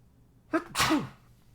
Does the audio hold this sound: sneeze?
yes